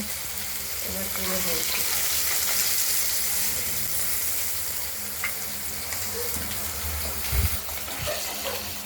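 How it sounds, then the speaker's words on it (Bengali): Pieces of rohu fish frying in oil give a continuous hissing sizzle at close range, with a few soft knocks and stirring sounds. "মাছগুলো ভাজা হয়ে গেছে।"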